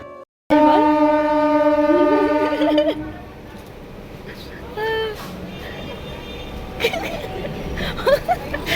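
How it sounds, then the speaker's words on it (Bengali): A train pulls into Dakshineswar station with a loud rumble and a sustained horn, followed by platform bustle, squeals and nearby voices. "আমাদের ট্রেন চলে আসে আমরা ট্রেনে উঠি"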